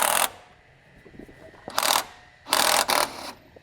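An impact wrench hammers at the crankshaft pulley of a Chevrolet Silverado in three close, loud bursts, a short opening rattle, a second burst, then a longer stuttering run with a brief break.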